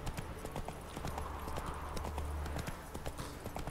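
The horse Roach clip-clops along in The Witcher 3, its hooves striking the ground in a steady, quick rhythm close by over a low ambient hum, with no one speaking.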